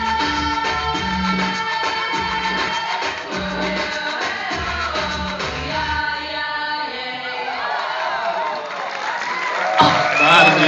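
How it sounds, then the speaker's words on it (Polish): A studio audience cheers and applauds through a dance game show, a dense continuous crowd roar under music-like tones with a brief louder swell near the end. "Duże brawa."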